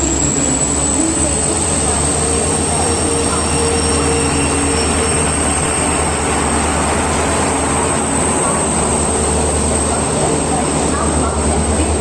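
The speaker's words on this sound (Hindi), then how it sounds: "तो फाइनली मैं अभी ट्रेन में बैठ चुका हूँ" Inside the Devagiri Express passenger train running from Mumbai toward Nanded: a constant loud rumble of wheels and carriage with a high steady whine, heard from the coach for the whole stretch, with voices in the background.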